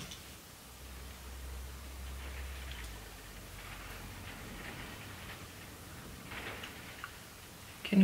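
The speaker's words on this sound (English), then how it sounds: "Can you hear the rain?" Steady rain from a storm hisses in the background, a soft continuous wash with faint scattered taps and a low rumble, no voices.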